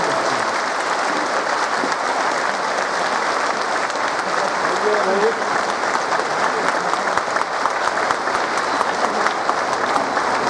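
Sustained, steady applause from a seated audience at a ceremony marking Emperor Ashoka's birth anniversary, dense and even throughout with faint crowd murmur underneath.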